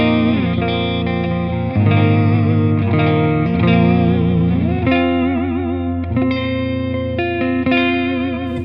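Electric guitar, a Jackson Warrior with EMG 81X bridge and 85X neck pickups, played through a Mooer GE200 Plus on its first preset, ringing sustained chords and bent notes drenched in chorus, reverb and echo, loud and alone.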